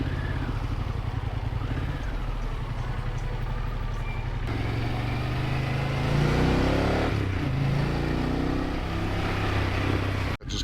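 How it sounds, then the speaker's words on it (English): Cars and motorcycles crawl through a traffic jam on a Mexican street, a loud, continuous drone of idling and revving engines close by, with a brief dip at the very end. "Just traffic jammed up here."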